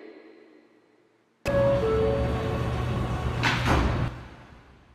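New York L train subway doors slide shut with a sudden loud onset, followed by a steady rumble and a brief hiss, then the sound fades.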